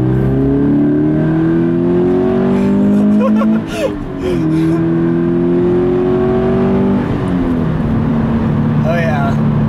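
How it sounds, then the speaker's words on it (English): Subaru BRZ engine revving hard under acceleration, rising in pitch through the gears with a brief dip around a shift, loud and close from inside the car, with faint talk partly underneath. "I'm gonna have to gas it because I don't want to hold up traffic."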